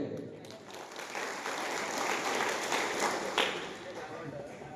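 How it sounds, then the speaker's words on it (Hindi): An audience at a district-level Guru Ravidas gathering breaks into sustained applause, building and holding as a broad wash of clapping, with voices mixed in. "तो ताली बजाइए"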